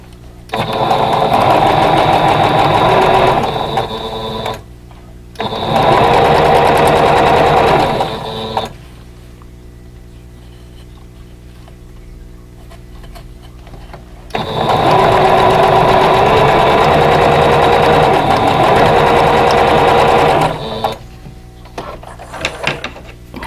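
A sewing machine stitches quilt block seams in loud, close bursts of rapid whirring, three long runs split by quiet pauses, with faint handling noises at the end.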